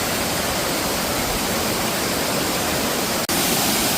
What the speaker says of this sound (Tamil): இதான் கேரளாவில் இருக்கிற செம்பன் அருவி